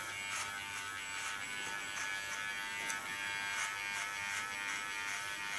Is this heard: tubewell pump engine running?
no